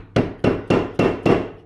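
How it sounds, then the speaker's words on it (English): A small dead blow hammer taps a pin into a Porsche power steering pump: five loud, evenly spaced, dull knocks about a quarter second apart, each quickly fading. "So we'll use a little dead blow hammer or something."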